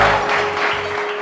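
Studio audience clapping on a morning TV talk show, a steady, broad wash of applause greeting a guest, continuous and fairly loud throughout the short stretch.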